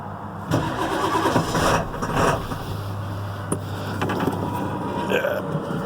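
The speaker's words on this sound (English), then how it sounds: "it's a diesel and it's cold out and it hasn't started in, gotta be a week or two" A 1997 Ford Powerstroke diesel cold-starting in cold weather after sitting unused for a week or two: rough, loud cranking and churning engine rumble with uneven hiccuping surges before it settles into a steady low idle.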